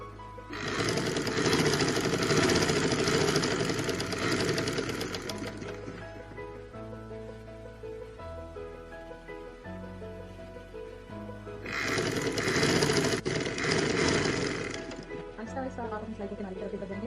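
An electric sewing machine stitches a box-pleated girl's frock in loud, rapid whirring runs, stopping for a stretch in the middle and then starting again, while a woman explains throughout.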